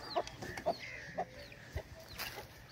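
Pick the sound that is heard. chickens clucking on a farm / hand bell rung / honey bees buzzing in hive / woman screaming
chickens clucking on a farm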